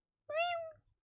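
A person imitates a cat's meow during a Beast Buster 1999 game session: a single short, clear, drawn-out meow sung close to the mic, with a faint low rumble beneath.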